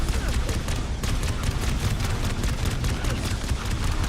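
Gunfire in a Halo battle crackles in rapid, dense bursts that barely pause, loud and continuous like a running firefight, with no clear voice over the shooting.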